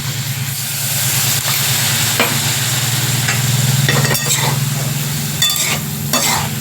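Ground white mustard and chilli paste fries loudly in a pan, a close, steady sizzle and hiss with a low hum beneath, punctuated by scraping stirs and a few light clinks.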